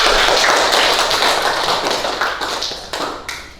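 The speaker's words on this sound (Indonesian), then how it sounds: "tepuk tangan untuk anak itu" Clapping from a class of schoolchildren applauding a pupil, a dense burst of many hands close by that thins out and fades over a few seconds, with a few last claps at the end.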